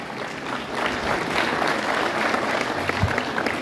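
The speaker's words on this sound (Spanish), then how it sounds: "el ingeniero Rogelio López Angulo, para quien les pido un fuerte aplauso" A crowd claps warmly and continuously, a full, even wash of applause that holds steady throughout without any speech over it.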